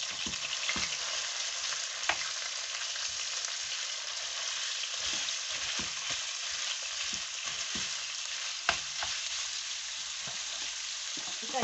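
Spring roll filling stir-frying in hot oil, a steady dense sizzle throughout with sharp spatter pops and occasional scraping stirs, close and loud with no talking.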